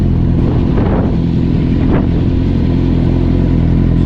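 A 2008-2010 Kawasaki ZX10R motorcycle engine idles steadily after a fuel pump rebuild, a loud, close, continuous low rumble with a couple of faint clattering blips.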